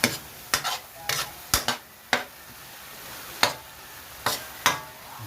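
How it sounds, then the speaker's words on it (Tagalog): Pinakbet vegetables are stirred in a cooking pan, giving scattered sharp scrapes and clacks of the utensil at an uneven pace over a faint sizzle, with no talk. "Haluin mo muna natin maigi para kumapit yung ano niya,"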